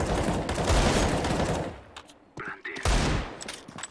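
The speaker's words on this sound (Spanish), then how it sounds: "Le ha disparado el de arriba sin querer." Gunfire in a shooter video game from a player positioned above, a dense loud burst of shots that breaks off, followed by a few scattered sharp reports.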